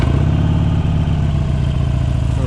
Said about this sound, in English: So the engine start switch. So this is what's actually going to start the bike. I will start it here just so we can hear it